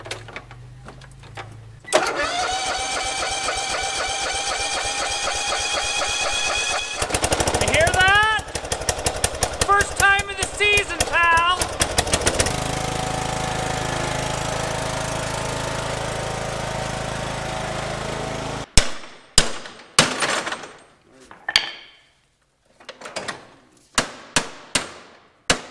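Small lawn equipment engine being choked and pull-started during spring maintenance: a rough mechanical clatter revs up and runs steadily, then cuts out into sharp knocks and clanks, with a voice briefly heard.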